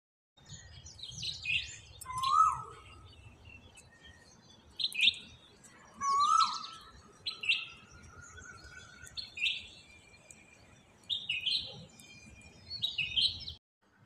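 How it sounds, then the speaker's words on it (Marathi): Morning birdsong outdoors: several birds give short, bright chirps and whistled calls in scattered bursts, moderately distant and fairly faint, over a quiet low background hum. "पक्ष्यांचं किलबिलाटाने आपोआपच जाग येते"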